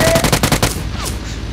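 Heavy automatic gunfire in PUBG Lite on PC hammers in a fast, loud burst of rapid shots for over half a second, then gives way to a fainter lingering hiss and distant noise.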